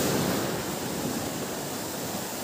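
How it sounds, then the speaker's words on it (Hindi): Strong ocean waves surge up the sand at Cola Beach in South Goa, a steady, loud roar of breaking surf with wind noise, continuous and close with no voices. "देखिए कितनी तेज़ वेव्स हो गई कि पानी कहाँ तक चढ़ रहा है"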